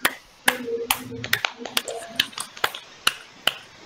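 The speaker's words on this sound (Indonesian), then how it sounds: "Beri aplaus untuk kelompok 1 dan kelompok 2." Sparse clapping in a classroom for the student groups who presented, a handful of sharp, uneven claps spaced out over a few seconds, close by, with a murmur of voices underneath.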